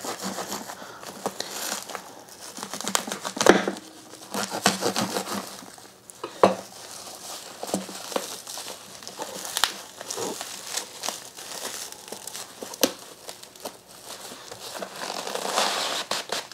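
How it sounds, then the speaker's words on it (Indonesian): Plastic wrapping crinkles and rustles as a wireless dynamic karaoke microphone package is unboxed, with irregular close-up crackles, handling bumps and a few louder crunches spread across a long stretch, and no talking. "Sekarang saatnya saya unboxing ya dari paket pembeliannya itu apa aja ya isinya."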